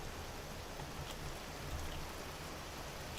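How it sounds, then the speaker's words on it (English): Hail and rain fall together in the video game Vintage Story as a constant, even hiss that stays faint and unbroken, with no voices over it. "Oh, it's hailing. That's why the rain is so loud."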